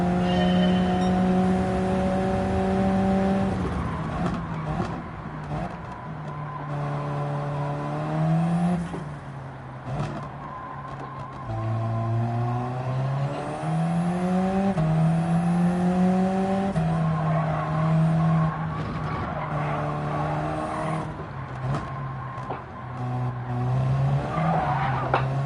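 Race car engine in Gran Turismo 7 droning with rising and falling gear sweeps, overlaid by sustained tire skidding and squeal as the car slides through corners; loud and continuous, with no talk.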